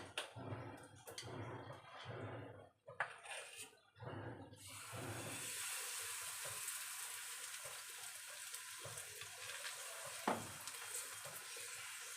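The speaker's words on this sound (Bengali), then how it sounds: "তো কড়াইতে তেলটা গরম হয়ে গেছে, এবার আমি" A mixture fries in hot oil in a wok, starting with a steady, broad hiss and sizzle after some clattering handling noises, close and continuous, with a brief sharper crackle partway through.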